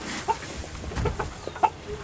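A chicken in a barn clucks in a few short, scattered notes over a busy, noisy background.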